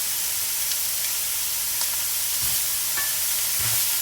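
Food fries in a pan on medium-high heat as part of a pasta bolognese. It makes a loud, constant, close sizzle and hiss, with a few soft thuds of stirring. No one talks.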